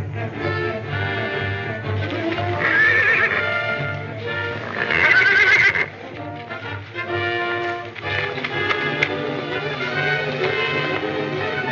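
A horse in a 1936 film neighs and whinnies loudly twice in close succession, with a steady music score underneath and no speech.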